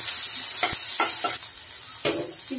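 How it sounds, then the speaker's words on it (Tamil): Onions sizzle in a hot pan while a spoon stirs and scrapes them in a few short, clattering strokes, sautéing for a broad bean stir-fry. "வெங்காயத்தை சேர்த்து நல்லா வதக்குங்க"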